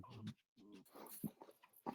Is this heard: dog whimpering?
yes